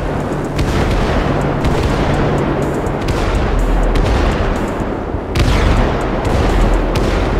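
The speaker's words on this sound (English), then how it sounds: "Man, them damn fireworks sound." Fireworks in GTA 5 during a night drive through a street neighborhood, a dense, continuous barrage of booming, cracking bursts rumbling at steady loudness throughout, with a brief dip before the blasts resume.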